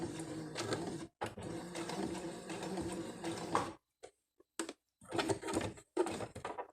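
Sewing machine back-stitching along the last edge of a fabric Christmas book, a steady mechanical whir in bursts with short pauses, then several quick stop-start runs near the end.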